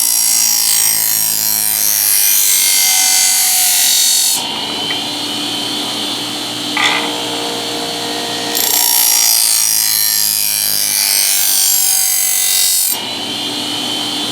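A knife blade being polished on a DIY budget knife sharpener to remove the burr, a loud continuous powered whirring hum with abrasive rubbing, alternating between two steady states every few seconds, no talk.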